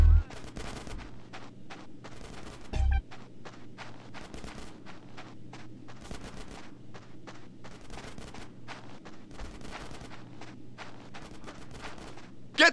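Rapid gunfire from a GTA San Andreas street shootout, a long string of sharp shots crackling in quick irregular bursts across the whole stretch, with a couple of heavier thumps mixed in.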